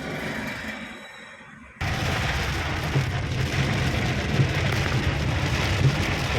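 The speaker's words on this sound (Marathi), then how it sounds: "पुढे आता पाऊस लागलेला आहे." Rain falls on a car during a drive, a steady dense hiss with scattered louder drops that begins abruptly and continues loud to the end.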